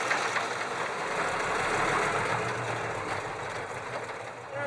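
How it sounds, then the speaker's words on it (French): Old 1960s truck engine idling, a steady rough diesel rumble with a faint rhythmic clatter, close and continuous throughout. "Le vieux camion des années 60 a depuis longtemps perdu de sa superbe et son moteur de sa vaillance"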